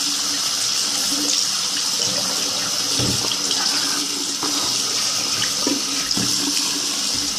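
Cold water runs steadily from a tap into a sink, a continuous close splashing hiss lasting throughout, with a few brief knocks and movements over the flow.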